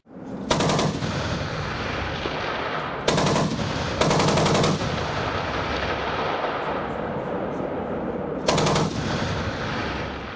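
Short bursts of machine gun fire crack out four times at irregular intervals over a continuous outdoor rumble, loud and fairly close, during a live-fire military exercise in Abkhazia.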